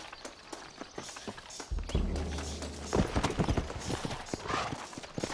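Horses clip-clop in the Western video game Red Dead Redemption, a busy run of hoofbeats thudding close with an uneven, overlapping rhythm, a low rumble briefly underneath, no talking.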